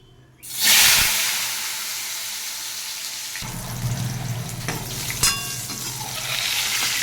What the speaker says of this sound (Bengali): কটা পটল ভেজে নিচ্ছি।